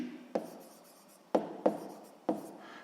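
Pen strokes on paper during a sixth-grade math exercise, a few short scratchy bursts spaced irregularly, close and fairly quiet with no talking.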